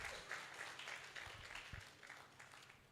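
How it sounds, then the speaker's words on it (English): Applause from a college silver jubilee audience at a CSE department celebration, a steady moderately loud patter of many hands clapping throughout, fairly distant and diffuse, with no talking over it. "give a big round of applause"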